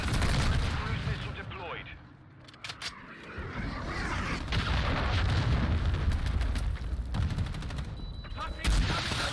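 Chaotic Call of Duty Hardpoint match on Shoot House: a grenade blast and bursts of gunfire crackle over a dense, loud battle din, with voices mixed in.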